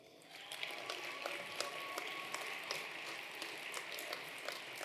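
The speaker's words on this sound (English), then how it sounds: "please give a big round of applause for my friend, Kyle Porter" Audience applauding at a technology summit hall-of-fame event, a steady, fairly faint wash of many hands clapping with no talk, heard from a distance.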